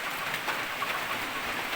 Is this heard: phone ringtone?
no